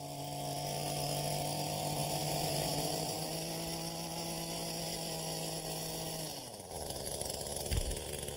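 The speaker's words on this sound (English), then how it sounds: "the easiest way to do it is with this little tiller" A small garden tiller churns through compacted soil near a driveway, its engine droning steadily and loud for about six seconds before revving down and changing pitch near the end.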